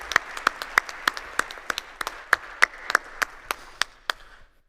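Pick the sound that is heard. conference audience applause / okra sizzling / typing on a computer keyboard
conference audience applause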